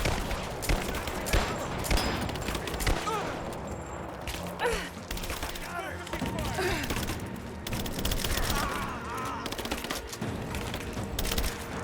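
Dense gunfire crackles through a firefight in Rise of the Tomb Raider: rapid bursts, sharp shots and splintering impacts, loud and continuous, with shouted voices over the shooting.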